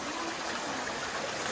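Water from outside pours into a cave as a waterfall, a steady broadband rushing roar that fills the space evenly and continuously, with no voices.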